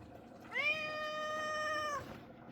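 A pet cat lets out a single drawn-out meow, clear and close, about a second and a half long, in a quiet kitchen with faint background noise.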